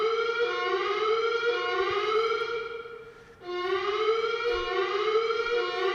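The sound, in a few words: building alarm sounding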